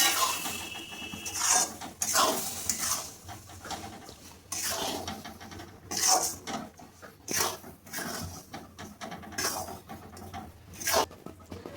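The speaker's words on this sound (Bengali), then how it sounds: "এটা আমি অল্প অল্প করে দেবো আর নাড়বো এটাকে ভালো করে" Besan laddu mixture being stirred in a pan as milk is added a little at a time, giving repeated scraping, rubbing strokes in an irregular rhythm, close and moderately loud with no talk.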